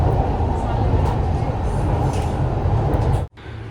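Loud, steady rumble inside a moving metro train, dense low-frequency roar throughout, dropping off abruptly near the end.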